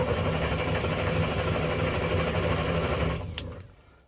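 A ratrod Morris Minor engine runs with a steady, even mechanical hum and chatter, close and continuous, then cuts out and fades near the end.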